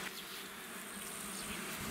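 Honey bees buzz densely during a beehive inspection at an apiary, a steady close swarm hum with no talk.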